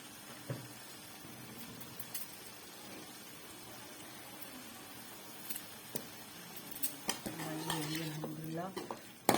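Potatoes tipped into fried masala in a pan for aloo gobi salan, followed by metal spoon scrapes and clinks against the pan and faint sizzling. The sound is fairly quiet, with sharper knocks toward the end.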